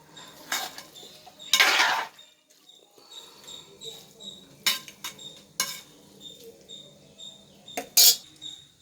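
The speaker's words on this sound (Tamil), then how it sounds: "லைட்டாக கிளறிட்டு அதுக்கப்புறம் மூடி போட்டு கழுவி மூடிடலாம்." Prawn biryani stirred in a metal pot with a spoon, giving scattered close clinks and scrapes, a sharp burst of rattling and a final clang as the lid goes on, with pauses between.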